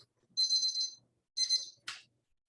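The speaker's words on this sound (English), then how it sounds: "timer has gone off" A kitchen timer goes off during tea brewing, giving three sharp, high electronic beeping bursts close up against near silence.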